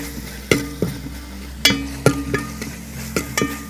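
Curry leaves dropped into hot oil for a Kerala-style beef curry, with steady frying hiss broken by sharp crackles and spoon-stirring knocks, close and moderately loud, no voices.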